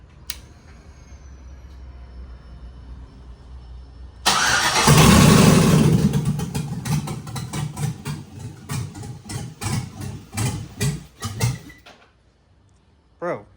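Jeep with an LS engine swap cranks, then fires up loudly and runs rough with an uneven, lumpy idle before shutting off near the end, close by.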